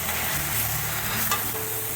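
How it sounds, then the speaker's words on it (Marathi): Chopped tomato and onion sauté in a pan, giving a steady close sizzle and frying hiss with a faint stirring scrape, continuous throughout and with no voices. "टोमॅटोसुद्धा छान कांद्याबरोबर परतून घ्यायचा आहे"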